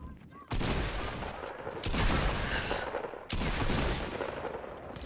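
Bursts of rapid gunfire in Fortnite, three loud sustained volleys starting abruptly and running back to back with brief gaps, close and dense, with no talk over them.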